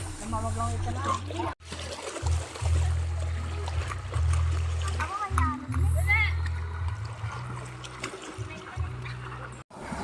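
Children splash and play in a river at an eco park, a steady wash of water with scattered splashes and excited young voices, while people talk nearby.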